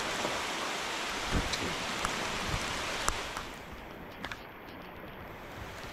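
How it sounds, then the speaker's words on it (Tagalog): Heavy rain falls as a dense, continuous hiss with scattered louder drops and taps, steady throughout and fairly close, with no talking. "Grabe, ulan."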